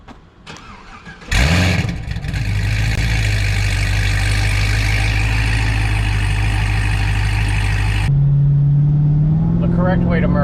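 A 1969 GMC C10 truck engine cranks briefly, then catches with a loud roar and settles into a steady, rumbling idle. Near the end the idle steps up to a higher pitch.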